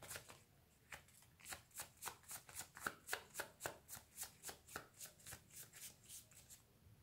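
Tarot cards being shuffled in a quick, even rhythm of crisp riffles, about three per second, close up and quiet with no talking.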